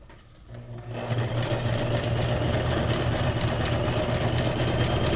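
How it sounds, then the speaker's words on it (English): A sewing machine starts up and runs steadily, stitching a small zigzag stitch on junk journal ephemera with a fast, even mechanical whir and a low hum throughout, with no talking. "Doing a smaller zigzag stitch this time."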